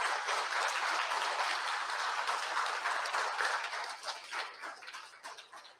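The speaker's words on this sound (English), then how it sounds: "our applause and our appreciation." Applause at a tribunal opening session, a fairly quiet, steady spread of clapping that thins out and turns patchy over the last couple of seconds.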